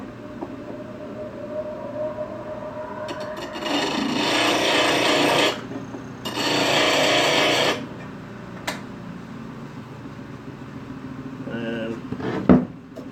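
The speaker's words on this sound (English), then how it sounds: "I should probably put the sharpener on the skew." A sharpener rasps against a skew chisel at a lathe in two sustained strokes, separated by a short pause, with a few faint knocks and taps afterward.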